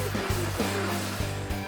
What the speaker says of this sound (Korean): 벽면 사이사이에 청소기에 흡입구를 바싹 붙이고 먼지를 빨아들입니다